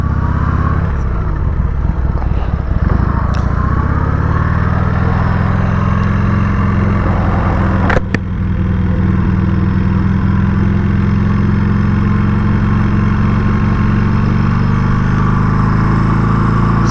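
A Harley-Davidson Sportster 883 motorcycle engine runs steadily and loudly throughout, with a deep, continuous rumble and a brief blip partway through as the bike pulls away.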